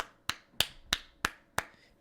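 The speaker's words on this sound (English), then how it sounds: "Hearing my clap in there." Five sharp hand claps in a quick, fairly even rhythm, crisp and close, with nothing else around them.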